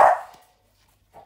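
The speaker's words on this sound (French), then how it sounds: "désolée pour le chien qui aboie" A single loud, close dog bark opens, decays quickly into silence, and a faint short sound follows near the end.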